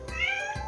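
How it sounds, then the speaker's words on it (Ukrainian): An old cat meows once, a close, clear drawn-out cry lasting under a second with no other sounds around it. "Така вже стара кішка, а ганяє, як молода."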